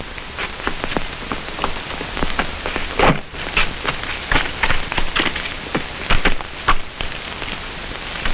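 Steady rain falls outside, a dense, continuous patter with scattered louder drops and splashes running evenly through the whole stretch, with no voices over it.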